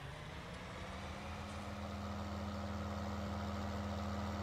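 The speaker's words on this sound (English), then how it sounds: "Probably almost just tell this tractor to drive down to the shop." Farming Simulator 19 tractor engine idling, a steady low rumble with a constant hum, even in loudness throughout and heard alone.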